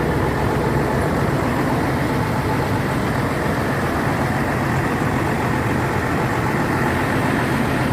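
An ALS 398 intercity bus engine idles steadily and smoothly, a constant dense rumble with no change in pitch or rhythm from start to finish.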